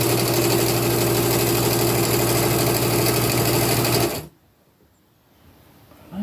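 A sewing machine runs steadily, stitching a zigzag seam on patchwork fabric, with a loud continuous motor hum for about four seconds before it stops abruptly and quiet follows.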